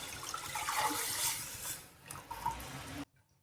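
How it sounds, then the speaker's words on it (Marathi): Water pours steadily into a pot of simmering kadhi with tempering, a close, rushing splash that fades toward the end and then cuts to near silence. "आता तुम्हाला कसं घट्ट पातळ कशी हवी तसं तुम्ही पाणी टाकून घ्यायचं आहे।"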